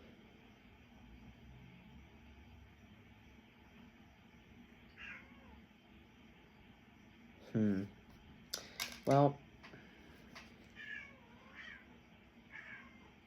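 A cat meows several times in quick succession at close range, loud plaintive cries standing out over a quiet room, with a person talking softly around them.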